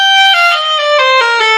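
A G melodic minor scale descends note by note on a single solo instrument, each clear, sustained tone stepping lower in an even, unhurried line with no talking.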